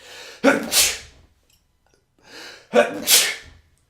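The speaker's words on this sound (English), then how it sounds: "I'm going to sneeze." Two loud sneezes close up, each preceded by a sharp intake of breath, about two seconds apart with silence between.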